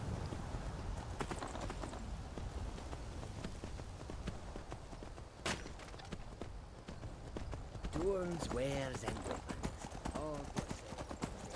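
Horse hooves clip-clop steadily in Skyrim, a fast continuous trotting rhythm running throughout, with a brief neigh partway through.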